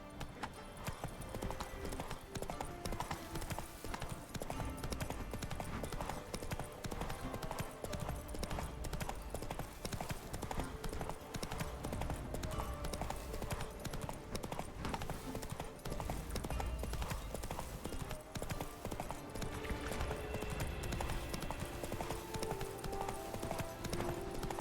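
Roach the horse galloping in The Witcher 3, a steady, dense drumming of hoofbeats that runs throughout under game music and ambience, fairly loud and continuous.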